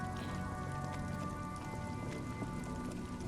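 Rain falls steadily during a traffic jam in the video game Disco Elysium, a soft, constant patter of drops on surfaces with faint tonal hum beneath and no talking.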